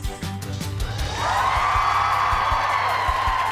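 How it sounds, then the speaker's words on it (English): A live television studio audience at a reality show eviction episode breaks into cheering and whooping, a sustained crowd roar that swells after the first second and holds steady, with scattered claps and thumps underneath. "Hear that cheer?"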